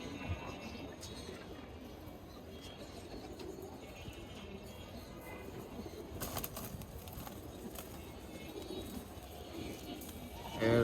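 Pigeons in a loft, with soft low cooing and occasional wing flaps at close range over a faint, steady background hum.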